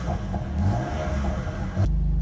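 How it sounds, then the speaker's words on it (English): A BMW M2 or M4 Competition firing up with a close, deep, rumbly burst of revs that falls back into a low, steady idle. "if I start this car up, already sounds deep and rumbly, nice and purposeful there"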